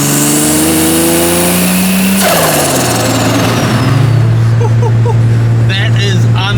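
A 43-year-old Datsun 280ZX with a turbocharged L28 engine revs loudly on a dyno, the pitch climbing hard, then dropping sharply and settling into a steady drone. Voices can be heard faintly under the engine.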